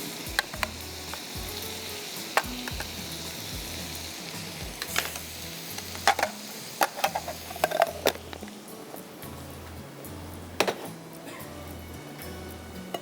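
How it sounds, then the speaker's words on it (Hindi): Kaleji masala spice frying in a pan of oil, a continuous close sizzle with scattered sharp clicks and spoon taps over a low rhythmic thumping stir. "अच्छा, अब कलेजी मसाला मैं डाल रही हूँ अपने इसमें"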